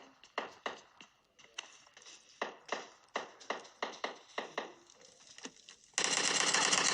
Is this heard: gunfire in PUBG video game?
yes